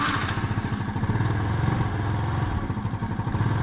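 A Ford Explorer engine catches after cranking and settles into a steady, loud, close idle with a rhythmic low rumble. It runs continuously through the clip without talk.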